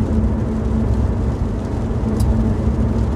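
Steady low road rumble inside a moving red car on a rainy morning, a constant engine and tyre drone with a faint hum, unbroken and fairly close, with no talk over it.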